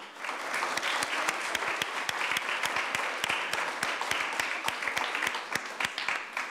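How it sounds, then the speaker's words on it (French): An audience at a participatory budget unveiling in Dieppe applauds steadily for several seconds, a dense patter of many hands clapping at moderate distance with no voices over it. "Une bonne main d'applaudissements pour ces gens-là."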